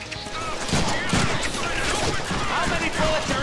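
Gunfire in the Deadpool video game, dense and continuous across the whole stretch, mixed with crashes and other game effects at a steady loud level.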